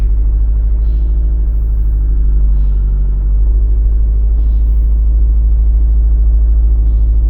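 Exhaust of a 2006 Subaru WRX STI driving after a tune-up with a new oxygen sensor fitted, a steady loud low rumble that drones evenly throughout.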